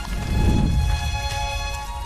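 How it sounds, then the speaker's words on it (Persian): Heavy rain pours steadily on an island, a dense continuous wash of falling water with a low rumble beneath and faint tonal hum throughout, no voices. "بارونای این جزیره خیلی شدیدن."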